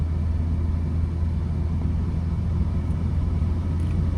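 Car cruising and picking up speed on a highway during a driving lesson, with a steady, loud low rumble of engine and road noise throughout, no voices.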